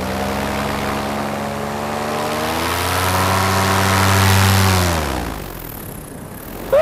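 A Flat Top paramotor engine drones steadily in flight with strong harmonics, then its pitch sweeps upward as it revs hard before easing off near the end.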